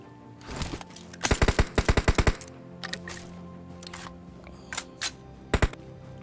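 Groza assault rifle fire in PUBG Mobile at Georgopol: a fast burst of loud automatic shots, then a second rapid burst, followed by a few scattered single shots and quieter game noises.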